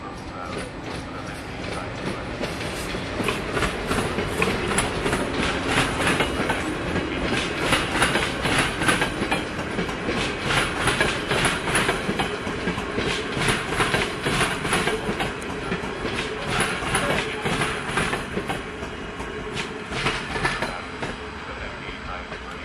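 An ÖBB class 1047 electric locomotive hauling a train into Kelenföld station, a loud, sustained rolling roar with rhythmic clickety-clack of wheels over rail joints and occasional metallic squeal, passing close by.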